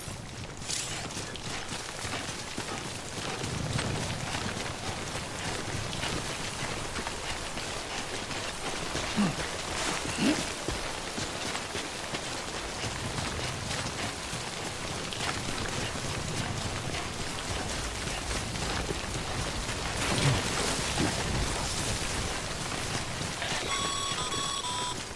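Steady rain falls in the Death Stranding video game, a continuous, moderately loud hiss with occasional faint electronic beeps layered on top, no talking.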